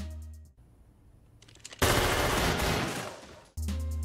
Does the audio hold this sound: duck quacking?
no